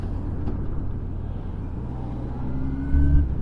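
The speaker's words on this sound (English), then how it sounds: "this pipe doesn't sound half bad. It's quiet, but not bad at all." A Yamaha FZ1 motorcycle engine rumbles through a 20-year-old aftermarket exhaust muffler, a quiet, steady low drone that rises slightly as the throttle opens near the end.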